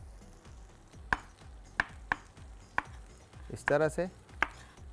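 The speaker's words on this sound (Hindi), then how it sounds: "टमाटर को आपने इस तरह से, बेशक पल्पी टमाटर हो कोई इशू नहीं है, आपने इस तरह से डाइस काटना है" A knife dices tomatoes on a cutting board for Mexican rice, giving a series of crisp, close chops at an uneven pace, with a short spoken phrase among them.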